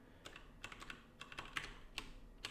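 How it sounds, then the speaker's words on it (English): Rapid typing on a computer keyboard, irregular bursts of crisp key clicks and clatters, close and moderately loud with no talking. "Sorry for the typing."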